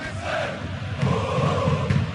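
Stadium crowd cheering in the FIFA 12 football video game, a broad roar of many voices that swells partway through and stays moderately loud without any clear single voice.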